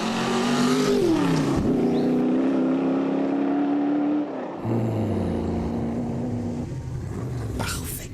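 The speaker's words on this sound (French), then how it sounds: "une voiture de course faite par Shelby en 64 pour battre Ferrari au Mans" A 1964 Shelby Cobra race car engine revs loudly and close by, its pitch rising and holding, then cutting out briefly before a deep idle and another rev.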